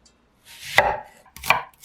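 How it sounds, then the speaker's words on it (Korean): Carrots being cut into thin strips with a knife, two close crisp chops about a second apart, each a short scrape ending in a firm knock on the board. "당근도 채 썰어서 냄비에 넣으세요."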